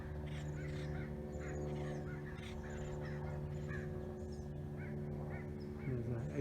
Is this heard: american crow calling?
yes